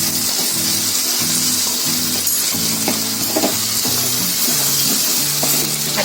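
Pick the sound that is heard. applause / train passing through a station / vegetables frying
vegetables frying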